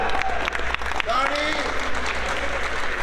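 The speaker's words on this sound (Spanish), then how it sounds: "venga, un aplauso" Audience applause in a hall at a national Warhammer 40,000 tournament in Mérida, a steady burst of clapping with crowd noise and a voice over it throughout.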